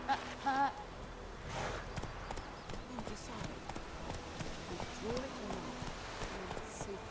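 Roach, a horse in The Witcher 3: Wild Hunt, gallops with rhythmic clip-clop hoofbeats that run steadily throughout, with speech faintly beneath.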